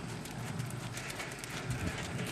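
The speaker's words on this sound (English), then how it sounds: "the horse takes longer strides" Horse hooves clip-clop steadily through a dressage lengthening, the horse taking longer strides while keeping an even rhythm, heard at moderate distance over constant arena background noise.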